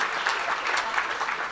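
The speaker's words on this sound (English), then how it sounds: "Let's put our hands together and give Catherine one more round of applause" A gala audience applauds in a dense, steady wash of clapping that holds evenly throughout, with no voices rising above it.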